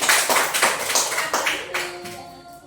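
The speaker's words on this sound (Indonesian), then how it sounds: "kasih tepuk tangan lagi sekali" Hands clapping in a classroom during an academic supervision coaching session, several loose rhythmic bursts of applause from a small group, fairly close and loud, fading out toward the end with some faint background talk.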